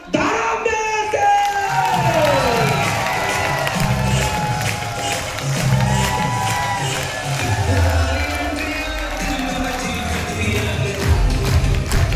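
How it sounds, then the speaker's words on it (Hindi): A crowd at a large business seminar in Delhi bursts into loud applause mixed with cheering and whoops, a busy roar that carries on for about twelve seconds with some shouts rising above the clapping. "मैं एक बार जोरदार धमाकेदार तालियां चाहूंगा"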